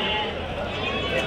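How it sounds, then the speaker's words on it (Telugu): Sheep and goats bleat at a livestock market in Angallu, the calls short and mixed into a steady crowd of people talking nearby. "మేకలు ఉన్నాయి ఇడంతా."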